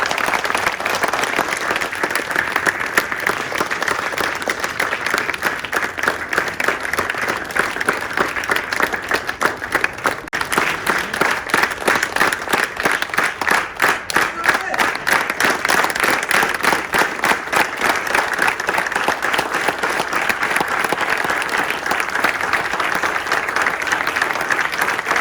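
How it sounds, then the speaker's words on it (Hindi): Loud, sustained crowd applause at an Indian academy event welcoming guests, a thick continuous roar of many hands clapping for about twenty-five seconds with rhythmic surges. "जोरदार तालियों से"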